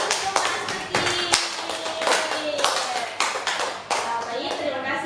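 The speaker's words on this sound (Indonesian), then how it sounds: "Ya, beri tepuk tangan untuk Sari Sumastri" A small group of students claps for a classmate in a classroom during a microteaching lesson, short bursts of sharp, uneven hand claps that stop and restart several times, with children's voices faintly underneath.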